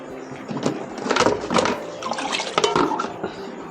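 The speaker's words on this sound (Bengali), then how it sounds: "এখানে আমি গরম জল করে নিয়েছি, গরম জল দিয়ে দিচ্ছি।" Hot water poured into a pot of washed atap rice for khichuri, a splashing, gurgling pour running steadily with bright bursts of liquid noise and no talk over it.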